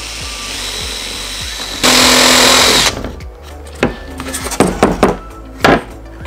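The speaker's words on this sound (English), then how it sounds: "I'm going to countersink just so that the screw can lay flat." A power drill countersinking holes in cedar planks for a van table build: a loud whirring burst of about a second over a noisy background, followed by scattered clatter and handling knocks of the boards.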